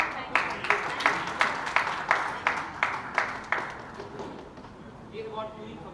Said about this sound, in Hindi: आपके लिए फिर ताली